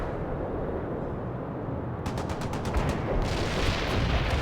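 Artillery strike explosions in the video game World in Conflict: heavy rumbling blasts, then a rapid burst of sharp cracking shots and louder booms building toward the end, loud and close.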